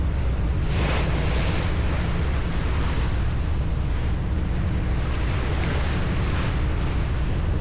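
Ocean waves and wind heard from a ferry form a continuous loud wash of surf and buffeting wind across the microphone, with the low rumble of the vessel beneath and no talking.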